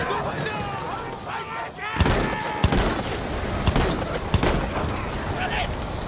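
Video game gunfire rings out from several directions in a dark firefight. Sharp, loud shots crack out irregularly over a constant rumbling background of battle noise, with a few distinct bangs standing out.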